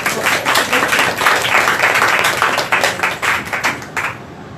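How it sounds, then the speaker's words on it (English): Close, lively clapping from a small audience at an Earth rights defenders forum in Southeast Asia, a dense burst of individual claps that thins and stops near the end. "Have big applause."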